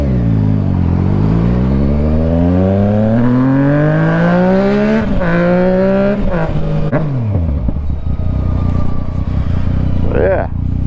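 A Yamaha Tracer 900 motorcycle with a changed exhaust revs hard at night, its loud engine note climbing steadily through the gears, then dropping away to a rumbling idle with a few crackles near the end.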